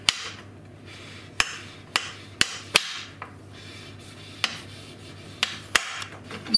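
A knife chops chocolate on a board with sharp, close, evenly loud knocks about every half second, separated by short quiet gaps.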